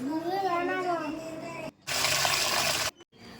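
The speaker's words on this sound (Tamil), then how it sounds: "ஃபஸ்ட்டு மட்டனை க்ளீன் பண்ணிக்கிறேன்" Mutton rinsed under running water, a brief burst of splashing and pouring that follows someone speaking, then cuts off abruptly with a short second splash at the end.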